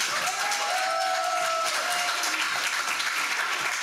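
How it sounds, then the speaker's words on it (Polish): Audience applause at a campaign convention: sustained, dense clapping from a large indoor crowd, steady and loud for several seconds with no speech over it. "Ogromne brawa."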